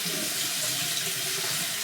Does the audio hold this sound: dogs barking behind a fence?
no